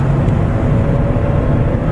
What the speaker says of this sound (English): Let's try to accelerate it. Downshift, flooring the pedal